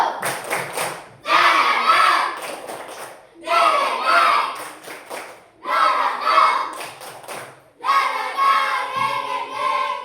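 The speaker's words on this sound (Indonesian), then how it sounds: "Tepuk semangat baru" A group of students does a rhythmic Indonesian spirit cheer, clapping in patterned bursts while chanting together, in four loud spells separated by short pauses.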